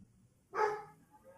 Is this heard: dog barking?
yes